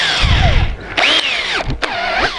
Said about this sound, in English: to drill these holes for our self-tapping screws.